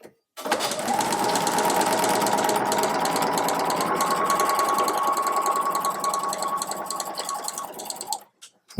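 A sewing machine stitches straight across the boxed bottom seams of a tote bag, running in one steady, continuous whir for about eight seconds, close and loud, then stopping.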